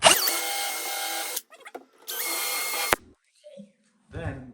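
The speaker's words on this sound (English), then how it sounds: "our drill will go, we pre-drill a hole right here." A power drill pre-drills a hole in a vanity cabinet, giving two loud whirring bursts of about a second each with a rising pitch, separated by quiet handling noises.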